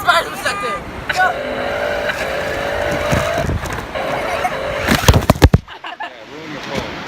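An RC car drives through sand, its small motor whirring steadily and loudly for several seconds before a few sharp bumps and a sudden cut to near quiet, with voices chattering over it.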